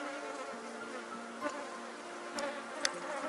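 Honeybees at a hive with a swarm massed around it, a dense continuous buzzing close up, steady and unbroken, with a few faint clicks over the drone.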